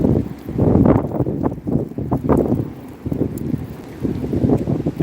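Strong gusty wind in outdoor Melbourne, buffeting a microphone with loud low rumbling surges that swell and ease over a few seconds, no voices.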